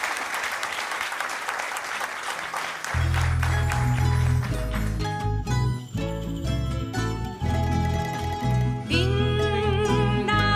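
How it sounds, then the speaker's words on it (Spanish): A studio audience at a Canarian parranda music programme claps loudly and steadily for about three seconds, then the applause gives way to band music with bells and strings. "vamos venga a darle un aplauso"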